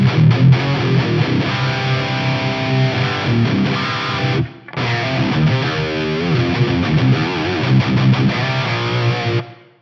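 Loud, distorted electric guitar chords through a Fractal FM3 with a short, thick reverb giving a roomy tail, playing continuously with one brief break midway before ringing out.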